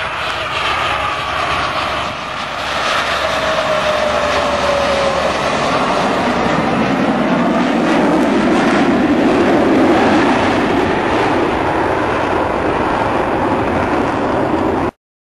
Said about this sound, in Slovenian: prelet z minimalno hitrostjo letala